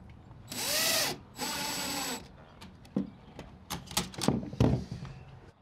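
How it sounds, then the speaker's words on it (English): A power driver whirs in two sustained bursts while screws go in to fix a weather seal along a door jamb, followed by scattered clicks and taps, fairly quiet and close. "So just put a screw, one in the middle and one on either end."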